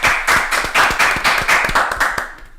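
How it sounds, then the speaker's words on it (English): Podcast hosts clap rhythmically in the studio to mark their 100th episode, roughly a dozen close, sharp handclaps in quick uneven bursts. "Can we clap it up for that?"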